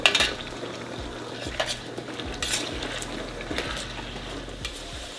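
Potatoes and chiles fry in a pan with a soft sizzle underneath. A utensil scrapes and clinks against the pan repeatedly as the food is stirred, close by and with no speech.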